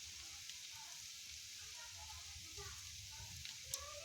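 Onions sizzling as they fry in a pan, a soft steady crackle with faint stirring and a small click near the end, fairly quiet and uninterrupted.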